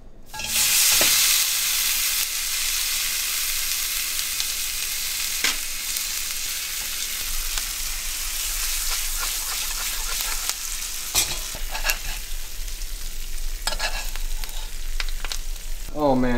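A ribeye steak, already cooked and rested, sizzles loudly as it is reheated in a hot pan, with a steady crackling hiss, sharp clanks of the pan or utensils, and a burst of spattering near the end.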